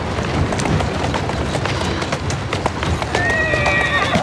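Horse in Assassin's Creed Syndicate, hooves clip-clopping steadily over a noisy game backdrop, with a whinny rising near the end; a voice talks partway through.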